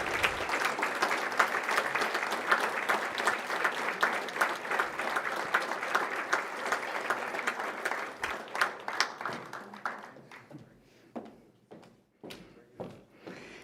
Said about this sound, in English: A big round of applause for our recipients.